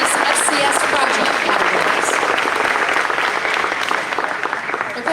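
A large audience at a county 4-H style revue and state fair awards program applauds its state fair representatives, dense, loud continuous clapping that holds steady and starts to thin near the end.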